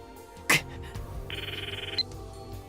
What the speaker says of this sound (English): The ringtone echoes in my ears.